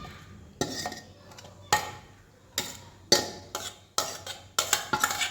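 Utensils and a pot clatter as a chicken kilikoodu potato mixture is moved into another vessel: sharp metallic knocks and scrapes in uneven bursts, close and fairly loud, with no voices.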